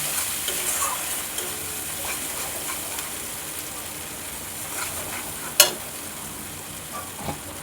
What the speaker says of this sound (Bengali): এবার এই তেলে সমস্ত পেস্টটা দিয়ে কষিয়ে নেব।